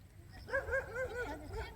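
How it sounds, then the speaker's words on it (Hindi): A stray dog in Kashmir gives a short run of whining, yelping barks, moderately close over a low background rumble. "ये आवारा कुत्ता हुआ है"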